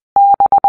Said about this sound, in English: We will also learn their equivalent signal structure of dots and dashes in Morse code.